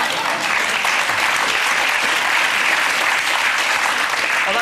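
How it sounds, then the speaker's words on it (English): Sustained applause from a studio audience at a comedy panel show, dense and steady clapping for the full stretch with no talk over it. "They're clapping a plane crash."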